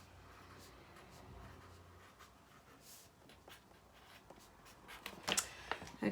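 A pencil writes counts onto sheet music with faint, close scratching strokes in a quiet room. The marks grow a little louder and sharper toward the end.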